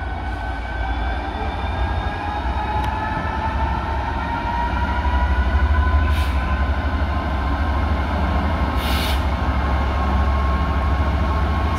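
Train pulling away from Eastleigh station, a loud continuous rumble of wheels and engine with rising tonal whine and a couple of brief high squeals, no talking.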